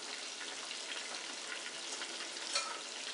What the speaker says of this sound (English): we're just browning the chicken here